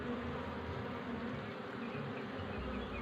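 Farmed honey bees buzz in a steady, dense drone that holds at an even level throughout, with no voices present.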